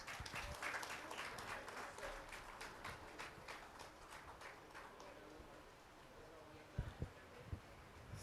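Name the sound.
audience applause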